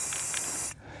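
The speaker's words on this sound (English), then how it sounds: "we're gonna do is throw some spray paint on here right quick" A spray paint can hisses out a marking on the ground at a homestead excavation site, one short, close, loud burst that cuts off abruptly, with no talking.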